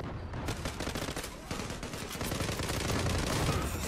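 Rapid automatic gunfire rattles in dense, continuous bursts through a Zula online shooter match, loud and close, with a brief pause near the start before the shots build steadily.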